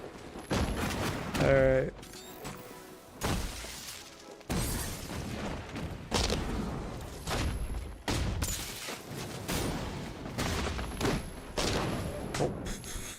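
Gunfire from an invisible gun in Batman: Arkham Knight, with repeated bursts of shots and booms arriving in irregular volleys, mixed with mechanical game sounds and a brief spoken word.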